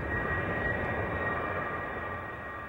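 A military airlift cargo airplane, a C-5, drones steadily with its engines, a loud sustained roar carrying a few steady whining tones that fades slightly near the end.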